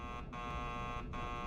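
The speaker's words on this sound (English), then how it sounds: "There's an alarm going off." A steady electronic buzzer alarm sounds inside a flooded hallway of a video game, holding constant and loud throughout with no talking over it.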